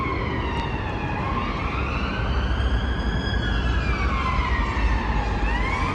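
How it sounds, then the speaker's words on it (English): A police siren wails continuously, rising and falling in long sweeps over steady traffic rumble, loud and fairly close. "Reminds me of London here with all the police sirens."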